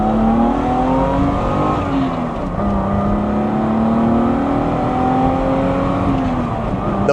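A BMW E30 with a close-ratio gearbox revs hard under acceleration, its engine note loud and close, climbing steadily and then dipping briefly around a gear change before pulling up again. No one talks.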